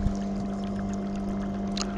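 Small fishing boat running on a waterproof outboard motor, a steady droning hum with a constant engine tone, water swishing and splashing around the hull and occasional small clicks.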